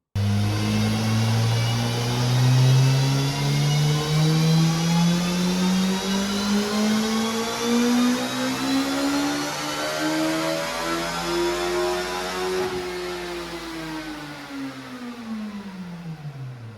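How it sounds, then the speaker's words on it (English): A turbocharged Gen 3 Suzuki Hayabusa screaming on a dyno, one long loud pull with engine pitch climbing steadily, then easing off near the end, close and alone. "we just got done dynoing Aaron Pierce's Gen 3 Hayabusa"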